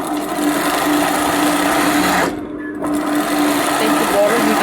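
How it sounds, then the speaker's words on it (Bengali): A sewing machine running a seam on a salwar, a continuous close mechanical whir with a brief pause midway before stitching resumes. "এখন আমি উপরে আরেকটা সেলাই দিব।"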